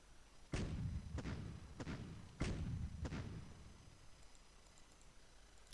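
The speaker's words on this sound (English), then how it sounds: "Let's just launch some artillery here." An artillery strike lands in a strategy video game as four heavy booming thuds, roughly evenly spaced and close, each tailing off into rumble, with no talking.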